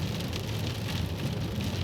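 Steady rain falls outside in northeast Kansas, a dense, even patter with no breaks that holds at a moderate level throughout, with no voices and no distinct drops standing out.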